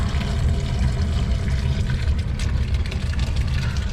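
Water drains steadily from a leaking York fan coil unit in an HVAC system, a continuous low rushing flow close by with no break and no voices.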